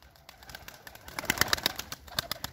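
Young pigeons in a loft cooing and beating their wings, rapid fluttering wing claps in quick bursts mixed with soft coos, close and lively with no talking.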